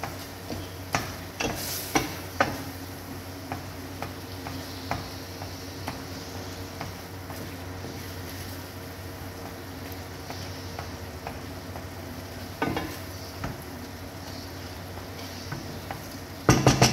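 Tomatoes sizzling in a pan as they are stirred, a soft, continuous frying hiss with scattered clicks and taps from a utensil, and a few sharper knocks near the start and end.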